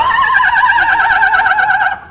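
A person imitates a horse neigh with a loud, wavering whinny that lasts about two seconds and trails off at the end. The call is made for a zoo crowd.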